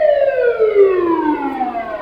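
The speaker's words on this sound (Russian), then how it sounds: "Видите, сейчас пожарную машину проверяют. Даже заставили включить сирену." A fire engine's siren is switched on during Japan's mandatory Shaken vehicle inspection, wailing loud and close in a smooth falling sweep with strong harmonics and no talk over it.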